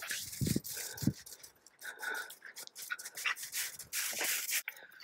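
A dog out in the snow on a backpacking trip pants in quick, close breathy bursts, with soft whimpers and scuffling mixed in over a few seconds.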